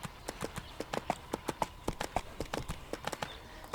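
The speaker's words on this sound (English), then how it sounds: "I'm going to get on my horse, though" Horse hooves clip-clop in a quick, steady gait while riding in the game Everquest 2, a fairly faint, even rhythm of sharp hoof strikes with no talk.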